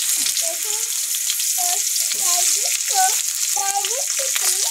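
Onion frying in oil in a kadai wok gives a steady, close hiss throughout, while voices talk over the sizzle.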